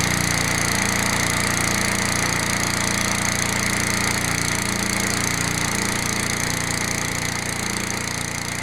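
A Honda HRH 536 lawn mower engine runs on the choke, a steady, loud, slightly rough drone with an even mechanical chatter that holds without pause.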